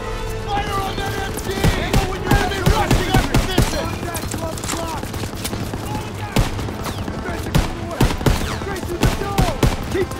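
Dense, continuous machine gun fire and scattered rifle shots fill a Call of Duty: WWII battle on Hill 493, loud and rattling throughout, with shouted voices partly buried underneath.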